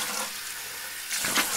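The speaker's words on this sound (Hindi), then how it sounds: "गोवर्धन ने अपने शरीर पर वो पानी डाला।" Bucket of cold water poured over a body, a steady rushing splash of water running throughout with a louder gush near the end.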